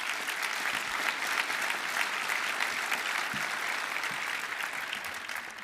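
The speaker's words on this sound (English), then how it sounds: "We should give ourselves a round of applause" A roomful of people applauding at a leadership award event, steady dense clapping heard fairly close and continuing for several seconds before easing off slightly toward the end.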